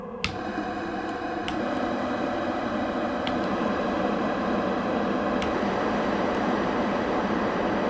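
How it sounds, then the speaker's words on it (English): Synthesizer notes pitched up and down, drenched in an industrial warehouse-style reverb, forming a sustained, dense wash of tone with a few faint clicks, steady in level throughout. "this is this nice industrial kind of warehouse reverb"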